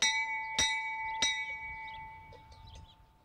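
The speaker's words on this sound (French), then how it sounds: "Et voici la petite cloche, celle qui annonce le début du film de la bataille." A small bell rings out twice in clear, sustained tones, the two strikes roughly half a second apart, each leaving a long shimmering ring that slowly fades, with faint chirping sounds in the background.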